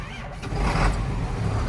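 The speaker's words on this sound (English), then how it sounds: "Half a turn of the engine and it fires up." A John Deere tractor engine cranks for about half a turn and catches, settling into a loud, steady low diesel rumble close by.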